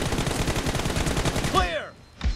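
Rapid bursts of automatic gunfire from the mobile shooter game BGMI rattle off in quick succession, close and loud, before cutting off into a short lull and one more faint shot.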